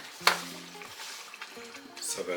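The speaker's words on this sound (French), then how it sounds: "on va regarder la tomate, alors où c'en est, parce que là, du coup, ça mijote, ça mijote, ça mijote" Tomato sauce for lasagne simmers in a pan with a soft, close bubbling and sizzle, while a voice talks over it in short bursts.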